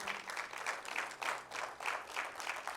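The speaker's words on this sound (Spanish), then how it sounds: "Denle un fuerte aplauso al Rey de Reyes." Church congregation applauding at a service, a steady, moderately distant wash of many hands clapping with no talk over it.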